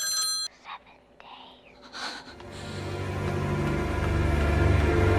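A telephone rings briefly in a horror movie about a cursed tape, a short electronic trill at the start, followed by soft breathy sounds and a swelling low rumble of ominous score.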